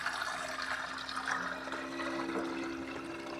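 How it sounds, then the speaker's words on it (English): Water pours into a wide-mouth garden sprayer at an allotment, a soft steady splash and gurgle of liquid filling the container, continuous and fairly quiet. "So first things first that I put in is the water. And you just pour that into your sprayer."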